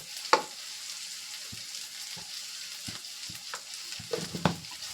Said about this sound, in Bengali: পেঁয়াজ, কাঁচা লঙ্কা আর রসুন কুচানো দিয়ে এটাকে ভালো করে ভেজে নেব।